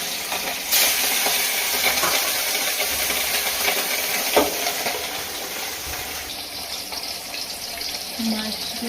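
Hilsa fish fried lightly in a pan, giving a steady close sizzle with occasional stirring scrapes and clinks.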